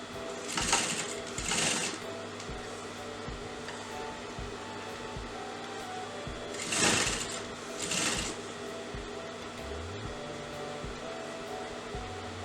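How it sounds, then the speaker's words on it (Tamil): A sewing machine stitches the back side of a half collar on a neckline, its steady quiet mechanical whir running throughout with a few brief louder bursts of sewing. "பேக் சைடில் தைக்கிறேன்."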